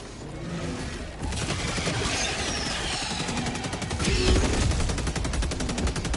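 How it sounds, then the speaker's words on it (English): Helldivers 2 combat: a dense, continuous roar of explosive artillery strikes and rapid gunfire, loud and sustained, swelling heavier near the end. "Explosive artillery coming in."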